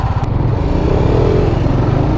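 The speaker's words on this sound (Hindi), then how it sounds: "भैया राइड कर रहे हैं आर 310 और मैं बैठा हूँ अपनी R15 V4 पे" Two motorcycles, an Apache RR310 and a Yamaha R15 V4, ridden together on the road, giving a loud, steady engine drone with wind rush throughout and no talking.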